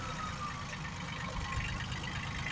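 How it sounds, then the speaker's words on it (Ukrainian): A Kubota B1-17 mini tractor's small 17-horsepower engine idles and chugs steadily nearby, a continuous low rumble with a rough knocking texture. "Ось він їде маленький тракторець."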